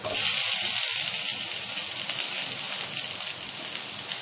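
Chopped tomato hits a hot pan of spice mixture, setting off a loud, steady sizzle and crackle that continues without pause, with light stirring scrapes underneath.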